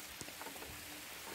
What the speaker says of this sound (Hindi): काफ़ी बारिश हो रही है